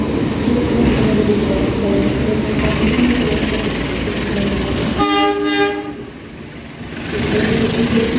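A Brantas passenger train rumbles steadily past on the railway in Indonesia, with a long horn blast near the middle; voices murmur faintly underneath.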